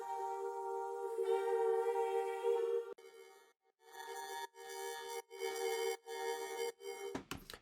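Sustained harmonized voices of a vocal meditation trio chanting a drawn-out tone, then breaking into rhythmic pulsing syllables, dry and fairly quiet with no added effects.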